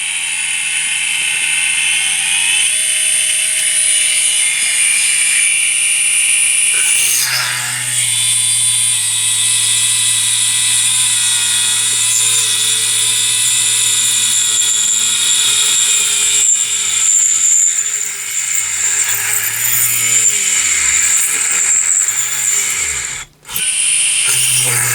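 A 220V 72W variable-speed micro electric hand drill runs continuously for a long stretch, giving a loud high-pitched motor whine. The pitch shifts as the speed changes, and the drill dips briefly near the end.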